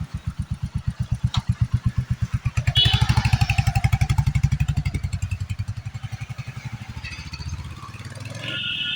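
A Royal Enfield Hunter 350 motorcycle engine thumps at a steady, rapid beat close by, growing louder briefly then settling into an even idle-like chug.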